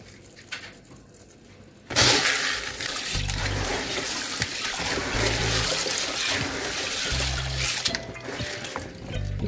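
Water splashes and rushes steadily and loudly after a quiet start, with sloshing and low thumps as soybeans are swirled and rinsed in it.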